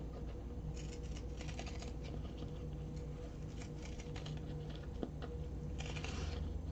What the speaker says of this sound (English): I'm just gonna take my pinking shears and trim this down